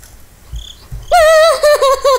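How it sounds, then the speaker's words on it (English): A frog croaks in the horror game Slender: The Eight Pages, a loud, tonal, warbling call that begins about halfway through and continues in several pulsing bursts, following a quieter stretch with faint low thumps. "It was a frog."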